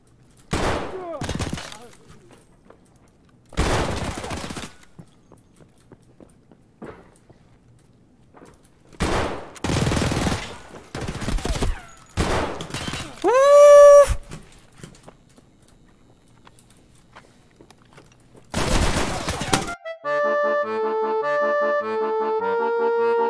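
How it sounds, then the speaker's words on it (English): Gunfire from the video game Escape from Tarkov comes in several sharp, loud bursts spread across the stretch, with speech between the shots, and a tonal musical jingle plays near the end. "And I shot three of them."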